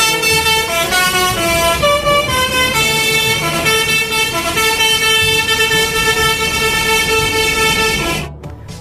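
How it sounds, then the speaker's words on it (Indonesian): Toy telolet bus plays its horn melody continuously, a loud, bright stack of musical honking tones changing pitch in a tune for about eight seconds, then cutting off abruptly, no voices. "Yang terakhir ada bus telolet."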